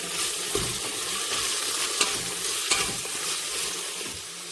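Tomato and onion stirred with a spoon inside a pressure cooker while cooking for a beef curry: steady close sizzling and frying hiss with a few light scraping knocks, no voices.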